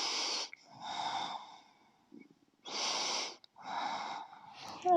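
Slow deep breathing during a yoga stretch: long airy inhales and exhales alternating in an even rhythm with short pauses between them, close and soft, with no talking.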